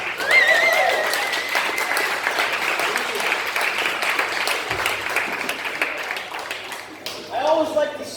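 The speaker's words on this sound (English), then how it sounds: "So please give yourselves a round of applause." A comedy show audience breaks into loud, sustained applause that thins out slowly, and a voice starts talking as it fades near the end.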